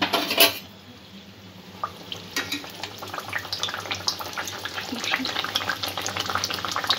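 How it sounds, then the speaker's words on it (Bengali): Bhatura dough frying in hot oil in a wok, a steady soft sizzle and bubbling with occasional clinks and scrapes of a utensil against the pan, close and fairly quiet. "ভাতুরাটা এর মধ্যে দিয়ে দেব।"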